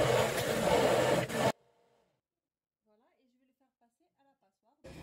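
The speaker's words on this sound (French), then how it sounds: "Donc je viens le mixer." A blender whirs loudly for about a second and a half, blending cooked fruit coulis, then stops abruptly; a short whirring burst returns at the very end.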